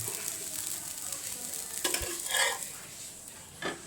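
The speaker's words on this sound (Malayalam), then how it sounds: "ലാസ്റ്റ് ദോശയാണ് ചുടുന്നത്." A dosa cooking on a hot pan gives a faint, soft sizzle. A few light scrapes and clinks of a utensil against the pan come near the middle, with no talking.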